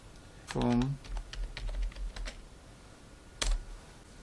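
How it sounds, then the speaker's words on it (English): Typing on a computer keyboard while searching for a product on a shopping site, a few scattered key clicks with a louder cluster near the end, heard faintly behind a brief voice. "simply type the name of the product you're looking for"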